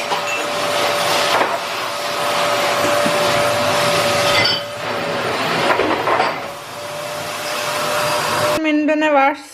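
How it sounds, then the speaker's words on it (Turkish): A vacuum cleaner roars loudly and steadily for several seconds, then cuts off abruptly as a brief voice is heard. "süpürge tutacak oraya"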